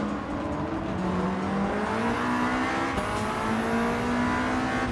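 Racing car engines roar in Gran Turismo 7, a Group 4 car and a Mitsubishi Lancer Evo 9 among them, as a steady loud whine that slowly rises in pitch, with several overlapping engine tones held throughout.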